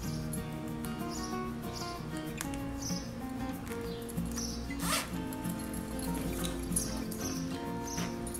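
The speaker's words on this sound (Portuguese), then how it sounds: "Você encaixa o zíper de um lado," A zipper is worked into the fabric sides of a handmade triple pencil case, giving a run of small scratchy zipping and clicking sounds close up, with faint bird chirps in the background.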